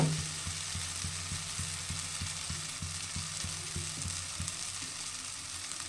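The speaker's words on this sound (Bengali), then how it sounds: "অনেক সময় ধরে ভাজা ভাজা করতে হবে আগুনটা হালকা থাকবে" Pumpkin pulp paste fries gently on low heat, giving a soft, quiet sizzle with regular low stirring taps in a steady rhythm throughout; no one speaks.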